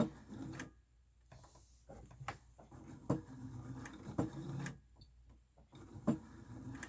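Sewing machine stitching a cloth panty liner, quiet uneven bursts of mechanical whirring and clicking separated by short pauses and ticks.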